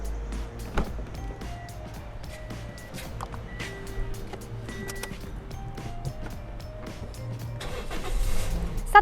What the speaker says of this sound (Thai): ถ้าได้ยินเสียงเครื่องยนต์กันแบบนี้เลยนะคะ